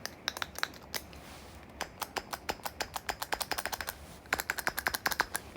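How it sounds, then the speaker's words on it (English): A pen-top style fidget toy clicks repeatedly up close, sharp crisp taps in quick irregular runs with a short pause partway through, quiet and heard alone. "It's like a pen top. You just click"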